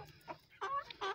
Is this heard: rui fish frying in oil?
no